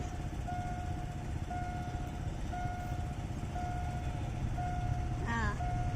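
Thai local train 418, running late, approaches at speed. A loud, steady mechanical rumble carries a sustained tonal whine, and a brief wavering, rising tone breaks through near the end.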